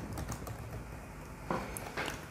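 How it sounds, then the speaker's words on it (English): Username keyed in on a computer keyboard, a few soft, scattered keystrokes over a faint background hum, quiet and close, no one talking. "let's type your username"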